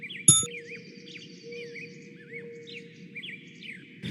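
Small birds chirp and tweet in quick, wavering calls over a steady low background hum, beginning with a sharp bright onset and continuing for several seconds, fairly close and with no talk.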